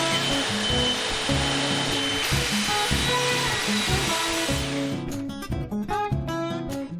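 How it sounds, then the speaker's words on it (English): A router is passed over the surface of an out-of-square sander, making a loud, continuous high whine with a rushing hiss that turns choppy and fluttering in the final seconds. "to fix that, I'm going to pass it over with a router."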